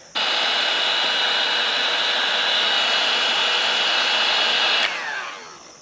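A heat gun blows a steady, loud whooshing roar as heat shrink tubing is shrunk over a cable on a YFZ 450 quad; the airflow starts abruptly, holds constant for about five seconds, then cuts off and winds down.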